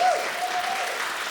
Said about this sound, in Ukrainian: Ну що, Микита Алексєєв, ваші оплески.